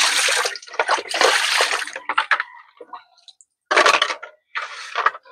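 Clean water runs and splashes in bursts, loud and close, with short pauses in between and no talking over it.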